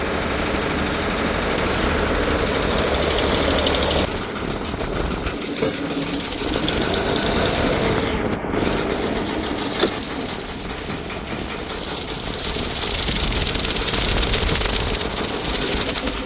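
A loud engine drones continuously throughout, a steady mechanical rumble with a rattling texture and no pauses.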